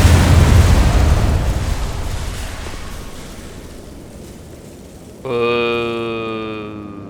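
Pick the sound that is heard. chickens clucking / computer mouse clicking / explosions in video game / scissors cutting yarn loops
explosions in video game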